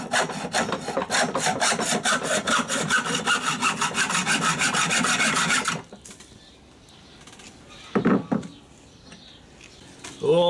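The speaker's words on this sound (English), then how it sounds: "try and cut it off at the right spot" Copper pipe clamped in a vise being hacksawed with fast, rhythmic back-and-forth strokes for several seconds, then stopping, followed by a few scattered clanks and handling noises nearby.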